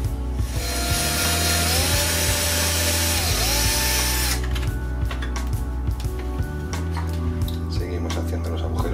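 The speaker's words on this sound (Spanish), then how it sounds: "Si disponéis de una herramienta como esta, un taladro a pilas, mucho mejor" A cordless drill whines steadily with a high pitch for several seconds while drilling holes around a Bosch/Siemens washing machine door frame, then stops into rough scraping and clattering over a low hum.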